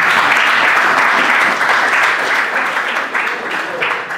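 Steady, dense applause from an audience at a book festival evening, loud and continuous throughout before gradually easing slightly toward the end.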